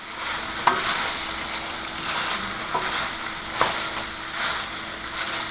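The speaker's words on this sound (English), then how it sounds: "Put your pasta in your skillet. I'm just going to give mine a little bit of a toss." Cooked pasta tossed in a hot skillet, with soft sizzling and a few sharp scraping shuffles as the noodles are flipped, close up and steady, with no talking.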